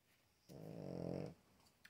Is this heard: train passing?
no